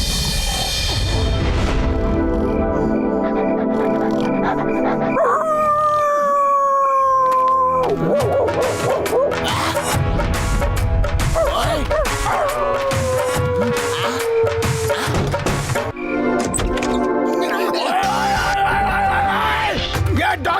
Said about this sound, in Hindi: अब ये नहीं भौंकेगा।